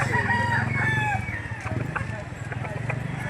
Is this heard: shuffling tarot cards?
no